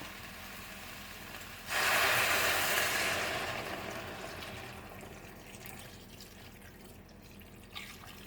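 Veggie stock is poured into a pot of pumpkin, a steady liquid rush that starts abruptly, stays loud for about a second, then slowly tapers off into quieter trickling.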